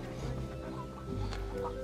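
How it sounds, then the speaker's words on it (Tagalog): Hens cluck softly in a rural yard at a mountain campsite, a few brief calls over low background noise, fairly faint. "Daming manok."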